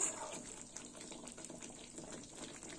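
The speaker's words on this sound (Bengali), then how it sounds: "এবার একটু জল দেব। দিয়ে দিলাম জল।" Water is poured into a pan of potol cooking in a yogurt curry, a short, faint splashing gush that trails off softly with no voices.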